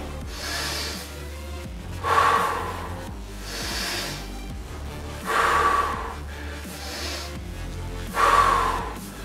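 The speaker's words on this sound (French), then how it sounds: "J'inspire en montant. J'expire en descendant." Slow, steady breathing during a dumbbell lateral raise, with soft drawn inhalations alternating with louder, noisier exhalations about every three seconds, close up and with no talking.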